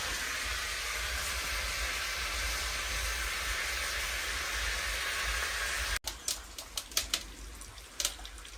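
Vegetables sizzle in a pan on a woodstove, a steady, loud frying hiss that cuts off abruptly, followed by scattered crackles and pops.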